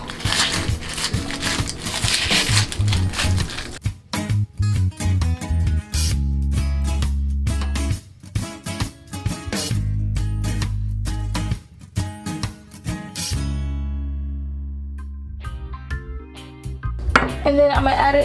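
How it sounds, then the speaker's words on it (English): A knife trims and peels a medium-sized onion on a cutting board while Jamaican curry chicken is being prepared. Crisp, irregular knocks and scrapes of the blade come close up and loud, with clattering kitchenware between cuts. "First, I'm gonna start with a medium-sized onion. Just cut the ends off. Peel the skin."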